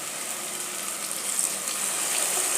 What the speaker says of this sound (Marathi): आता याच्यात पाणी घालायचं आहे